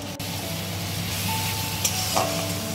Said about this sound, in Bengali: এটা একটু ভাজা হতে থাক।